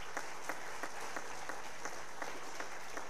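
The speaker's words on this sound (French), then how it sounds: "on peut les applaudir avec Christine" An audience at a multiple sclerosis conference in Nice claps for a medical team, sharp, evenly spaced claps in unison over a soft, steady background of scattered applause.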